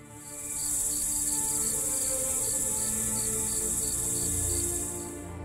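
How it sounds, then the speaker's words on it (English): Crickets chirp in a steady, rapidly pulsing trill that swells in, holds evenly for several seconds, then fades, with no other sound over it. "one could hear nothing but the rustle of leaves and the distant chirping of crickets"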